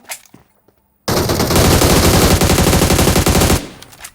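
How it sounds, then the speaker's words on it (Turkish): A video game firefight breaks out after a near-silent moment. Loud, sustained automatic gunfire rattles in a dense burst for about two and a half seconds, then cuts off and fades into a short tail. "Öndeki kafayı vurdum."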